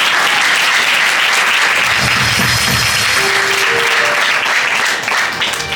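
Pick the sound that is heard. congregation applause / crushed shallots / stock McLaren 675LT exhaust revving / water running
congregation applause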